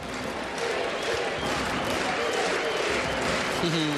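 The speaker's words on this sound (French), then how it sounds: "Vous entendez les applaudissements insufflés par le public français ici à Zurich, dans la Hallen Stadium" A French crowd applauds during the closing minutes of a handball final at the Hallenstadion in Zurich, producing dense, steady applause with crowd noise throughout while a commentator talks over it.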